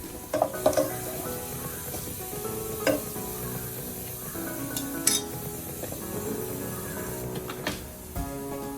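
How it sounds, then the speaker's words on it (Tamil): Onions with garam masala sauté in a pan for mutton chukka, a soft steady sizzle punctuated by intermittent metallic clinks and scrapes of a spoon stirring against the pan. "கரம் மசாலா போட்டு கொஞ்சம் லைட்டாக வதக்கினா போதும்."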